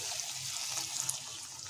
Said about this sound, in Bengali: এরপর আমরা যোগ করবো আরও সামান্য পরিমাণ জল